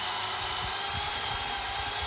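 A wire brush spun by a drill scours the inside of a wheel bearing housing from a Mazda RX8 front hub, giving a steady, high-pitched whirring grind that holds at a constant loud level throughout, with no talking.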